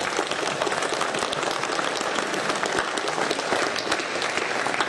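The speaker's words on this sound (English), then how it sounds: "So big clap." A crowd at a Raspberry Pi Jam meetup in Bristol claps loudly and continuously, a thick, even burst of applause lasting about five seconds with a few faint voices inside it.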